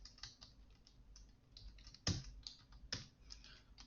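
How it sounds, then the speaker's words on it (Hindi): Computer keyboard keys pressed while editing text in the vi editor under Cygwin on Windows; soft, sparse typing clicks with two sharper, louder keystrokes standing out, no talking. "एस्केप की प्रेस करके, और डिलीट की का यूज़ करके हम कैरेक्टर बाय कैरेक्टर हम ये स्ट्रिंग को डिलीट कर पाएंगे"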